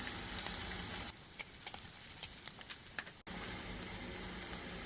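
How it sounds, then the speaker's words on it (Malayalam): Ginger garlic paste sizzles in hot oil in a pan for an Idukki-style fish curry, a steady loud crackle that drops quieter for a couple of seconds and then surges back. "ഇനി നമുക്ക് ഇഞ്ചി വെളുത്തുള്ളി പേസ്റ്റ് ഇട്ട് കൊടുക്കാം"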